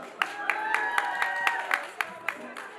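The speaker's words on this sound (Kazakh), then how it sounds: "Наргизаға қол шапалақ" Scattered rhythmic clapping from guests at a Kazakh family celebration feast, a few hands beating out a steady pulse under a voice speaking over a microphone.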